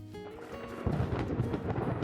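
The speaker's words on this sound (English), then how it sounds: "speaking of thunder and lightning, wow, that was crazy" Deep rolling thunder in the Minecraft video game, a low rumble that swells after a moment and keeps growling steadily under faint rain, with no talking.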